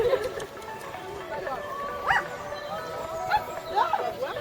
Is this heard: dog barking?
yes